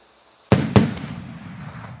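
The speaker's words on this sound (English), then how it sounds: "All right, so that's your stereotypical firework." Two sharp, loud blasts about a quarter second apart from a consumer firework rocket launching and bursting outdoors, followed by a long fading rumble and crackle, with no talking.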